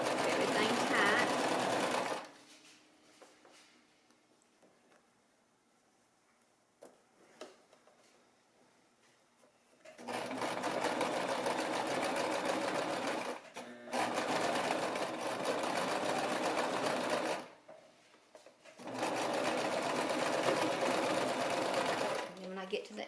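A sewing machine stitches taut fabric for a baby romper, running in long steady bursts of rapid mechanical whirring broken by quieter pauses.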